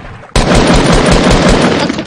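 Rapid automatic gunfire rattles continuously after a brief quiet start, loud and close, a sustained burst of synthetic-sounding shots.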